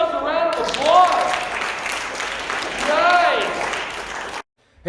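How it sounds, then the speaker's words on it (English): Classroom participants applaud after a game, with steady clapping under loud excited shouts and cheering that rise twice before an abrupt cut to silence. "Give yourselves a round of applause."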